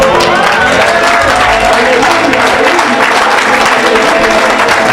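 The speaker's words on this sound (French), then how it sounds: "Acclame le Jesus." Crowd at a church worship service breaking into loud, sustained applause and cheering, a dense continuous wash of clapping and voices that stays steady for the whole stretch.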